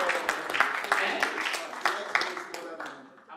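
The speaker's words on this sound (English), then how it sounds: "Round of applause as we bring on Mr. Rotimi Oja Jamoyi" An audience at a business conference applauds as a guest speaker is brought on, a dense wash of clapping that gradually thins and fades, with a voice over it.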